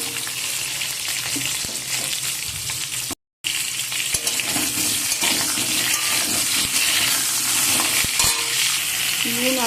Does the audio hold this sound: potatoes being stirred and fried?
yes